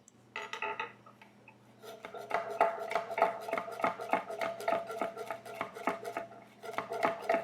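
A kitchen knife slices chilies on a cutting board, a quick series of sharp, close taps that starts haltingly and then settles into a steady, even chopping rhythm.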